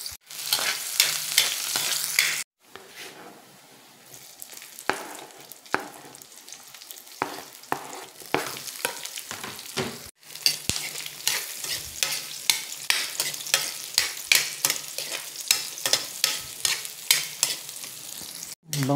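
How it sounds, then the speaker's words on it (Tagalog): Garlic and onion sautéing in a pan of oil while being stirred for adobo, a steady close sizzle broken by repeated scraping strokes of a spoon, with a couple of brief pauses and no talking. "Bango talaga kapag ginigisa yung bawang at sibuyas."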